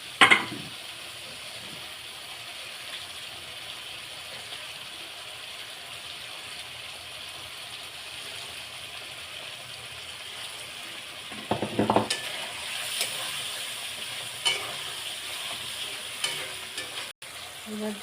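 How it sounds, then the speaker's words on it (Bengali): Pointed gourd (potol) frying in spice paste, a low, quiet sizzle that runs throughout, with spatula scrapes and clatters against the pan growing busier in the later half. "এবার আমি পটলগুলো দিয়ে একটু কষে নেব।"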